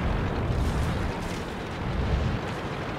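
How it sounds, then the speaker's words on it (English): A tank gun round ricochets off an M3 Lee in World of Tanks, heard as a dense, sustained booming roar of game explosion and rumble filling the whole stretch at steady loudness. "I do quite a snapshot and it bounces off the M3 Lee and does no damage"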